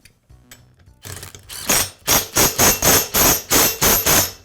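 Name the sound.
reinstalling flywheel and impeller hub on an Echo blower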